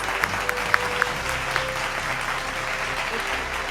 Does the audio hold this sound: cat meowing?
no